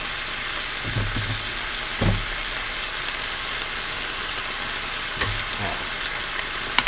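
Rice is stir-fried with softened green onion for beef fried rice, a steady close sizzle with a few louder scraping tosses of the spatula against the pan, and no voices.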